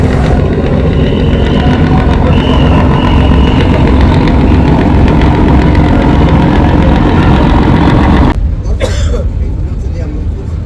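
The Carnival Cruise river launch departs Sadarghat, its engine giving a loud, close, continuous low rumble and throb that drops away abruptly near the end, with crowd noise and chatter mixed in.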